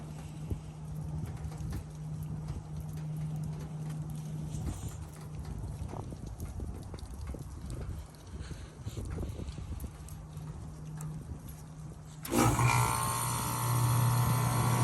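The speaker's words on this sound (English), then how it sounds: "Now for 30 seconds it should kick back on, but it's gonna sound awful because there's ice on the unit." A Goodman packaged heat pump with ice on the unit, running during a winter ice storm, gives a steady low mechanical hum with rattling and patter throughout, then kicks back on with a louder, brighter surge of fan and compressor noise near the end.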